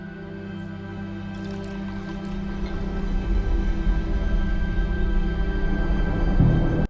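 A drink is poured into a glass: a soft liquid trickle and drip over a steady low background hum.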